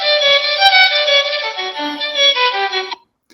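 A solo violin plays a short legato melody in a clean, close recording, bowed notes sliding between pitches for about three seconds before stopping into silence.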